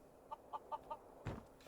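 Chickens in the video game Skyrim cluck softly, four short evenly spaced clucks followed by a brief louder flutter-like burst, all faint against a quiet background.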